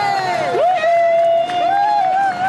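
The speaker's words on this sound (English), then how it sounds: "I can't believe they've hired people to stand around him and cheer." A hired crowd cheers at a Tony Blair campaign event: a steady mass of voices, with a shrill sustained whoop or whistle-like tone riding over it for the full two and a half seconds.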